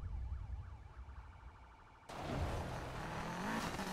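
Police siren wailing in the racing game Need for Speed Payback during a chase, a rising-and-falling tone heard first, then cut off by a sudden loud surge of engine and road noise.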